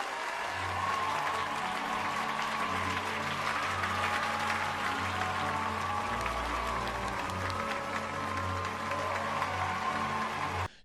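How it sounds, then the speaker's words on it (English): A crowd applauds in a loud, sustained, dense roar of clapping that runs unbroken for about ten seconds, with a low droning hum underneath and an abrupt cutoff at the end. "Everybody give yourself a round of applause."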